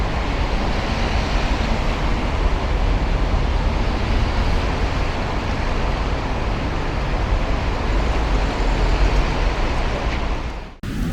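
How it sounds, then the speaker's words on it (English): Cars roll slowly over broken glass on a Liverpool street being cleared after a car ramming, a steady dense crunching and road rumble continuing without a break and cutting off abruptly at the end. "You can still hear the crunch of the broken glass as the cars are driving over it."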